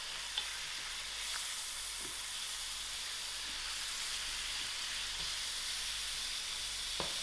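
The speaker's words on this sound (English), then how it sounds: "I am just going to add in my lamb." Lamb meat sizzles steadily in a hot pot of Durban mutton curry as it is stirred in, a dense continuous frying hiss with a few soft scraping knocks from mixing, and no talk.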